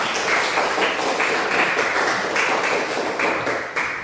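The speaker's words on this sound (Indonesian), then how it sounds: "Oke, berikan tepuk tangan." A school class claps hands together in a classroom, a dense, loud patter of many hands with faint rhythmic pulses running throughout, no talking over it.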